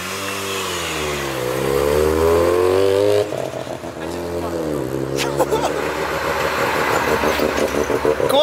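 A Mazda FC RX7 with a 13B rotary engine revs hard, its pitch climbing and falling through loud buzzy sweeps before crackling, popping bursts, with people talking nearby.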